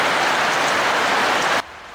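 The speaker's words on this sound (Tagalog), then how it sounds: "Bumuhos din ang malakas na ulan sa ilang bayan ng Cotabato" A heavy downpour somewhere in Cotabato makes a dense, even roar of rain that holds steady and then cuts off abruptly near the end.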